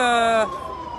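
An ambulance carrying a patient sounds its siren while trying to get past a police barrier of vehicles: a loud, close, steady wailing tone that suddenly drops lower and keeps sounding.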